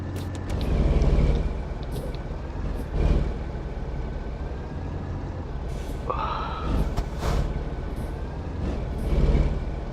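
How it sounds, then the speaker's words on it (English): Simulated truck driving on the Big Sur route in American Truck Simulator, a steady engine drone with a couple of louder swells and a sharp hiss near the end. "The truck sounds like that"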